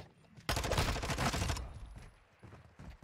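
First-person shooter gunfire in a competitive online match: a loud, dense burst of rapid shots lasting about a second, close and harsh, then quieter game sounds and faint background noise.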